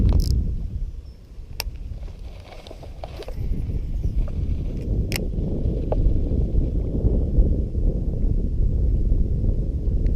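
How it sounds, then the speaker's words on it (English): Wind rushes and buffets across a Florida lake during summer bass fishing, a loud, low, continuous roar against the microphone with a few faint clicks, no voices. "there's a lot of wind"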